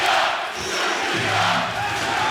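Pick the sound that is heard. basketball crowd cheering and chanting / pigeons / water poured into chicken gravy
basketball crowd cheering and chanting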